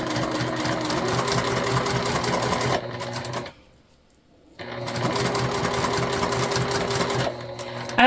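A high-shank sewing machine fitted with a walking foot bastes fabric across the top edge, running in a loud fast steady chatter, halting briefly for about a second, then running again close by.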